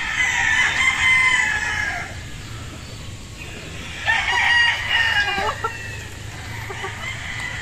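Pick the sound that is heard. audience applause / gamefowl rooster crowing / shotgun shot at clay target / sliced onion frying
gamefowl rooster crowing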